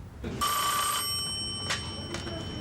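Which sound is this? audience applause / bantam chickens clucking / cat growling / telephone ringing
telephone ringing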